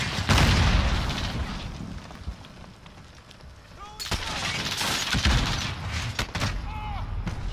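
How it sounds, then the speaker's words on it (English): Grenade blasts and bursts of gunfire in a shooter video game, with booming explosions and scattered shots mixed under a player talking excitedly over the game audio. "Oh, grenades!"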